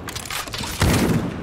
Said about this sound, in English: Let's have the rifle on.